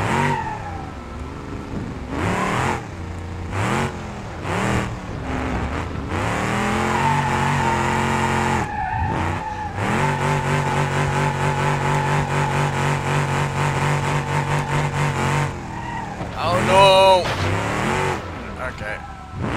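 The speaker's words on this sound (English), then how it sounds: "Halfway decent drift." A car engine revs hard and steadily during a drift, a loud, sustained rising and falling whine that holds for most of the stretch, with brief breaks near the start and end.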